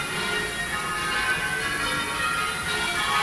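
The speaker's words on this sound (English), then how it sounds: "This is the bell tower." The bells of the Perth bell tower ring out, producing a dense, sustained wash of overlapping metallic tones that stays steady and fairly loud throughout, with no voices.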